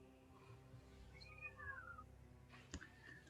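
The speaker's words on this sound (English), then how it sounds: "I love how we can hear the cat meowing." A cat meows a few times somewhere in the room, mid-level and wavering, over a steady background hum, with a sharp click near the end.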